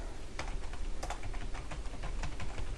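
Code is typed steadily on a computer keyboard, with close, fairly loud clicking keystrokes and occasional heavier key presses over a constant low hum. No voices are heard.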